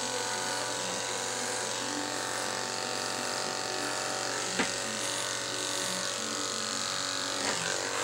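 Electric clippers with a size 10 blade buzz steadily and close by while grooming a Miniature Schnauzer's tail, a continuous even hum with a couple of brief bumps as the blade moves through the fur.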